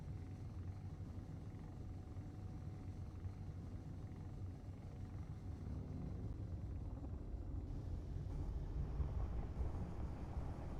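A spaceship in the game Space Engineers comes in to land with its thrusters at full power, producing a continuous deep roaring rumble that swells slightly toward the end, steady and heavy throughout with no talking.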